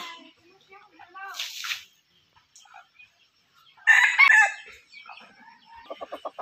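A rooster crows loudly nearby, with scattered clucks and another bird calling before and after, and a few short bursts of voice.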